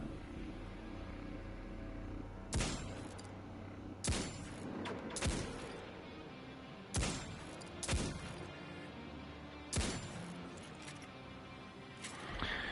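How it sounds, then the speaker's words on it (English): Hand cannon shots in Destiny 2 ring out as sharp, evenly spaced booming cracks, about seven single shots over a dozen seconds, layered over constant game ambience and rumbling effects. "Told you it was a good hand cannon."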